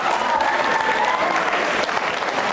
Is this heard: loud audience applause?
yes